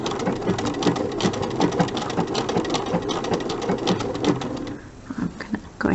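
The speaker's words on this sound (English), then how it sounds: "take my button stitch" A sewing machine running a button stitch on an applique block, steady rapid needle chatter with a rhythmic mechanical pulse, easing off near the end with a few slower stitches.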